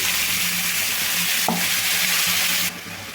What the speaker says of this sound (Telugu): పాలకూర అయితే ఒక మూడు నిమిషాల పాటు మంచిగా వేగాలండి